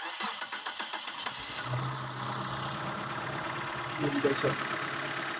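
Suzuki APV van engine cranking and catching after an exhaust repair, a short run of starter pulses followed by a steady, even idle, with someone talking briefly over the start.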